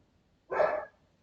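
A single dog bark at night, one short, fairly loud burst from a moderate distance against a quiet background.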